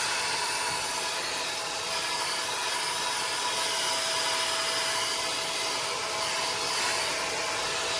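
Vacuum sucking debris out of a Tesla Model 3/Model Y radiator, with a trim tool agitating the dirt, gives a steady, loud, unbroken whooshing roar throughout with no talking.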